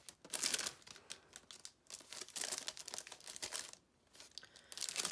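Thin plastic packaging holding three thin-cut die pieces for a layered floral background, crinkled and pulled open in close, irregular bursts of crackling and rustling, with brief pauses between handlings.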